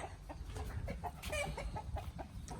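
Laying hens on a Thai home farm cluck in a quick, uneven series of soft calls, faint and fairly close, with no talk over them.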